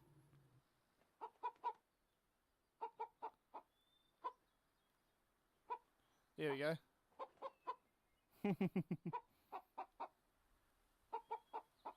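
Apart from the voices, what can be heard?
hen clucking in video game VRChat world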